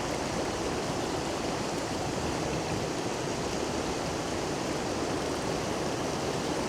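A waterfall where two rivers meet pours with a steady, broad rushing hiss, constant and fairly soft throughout with no voices.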